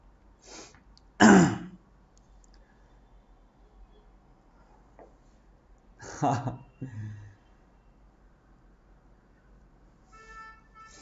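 Two bursts of throat clearing and coughing, one sharp and loud early on, a softer double rasp a few seconds later, with quiet gaps between.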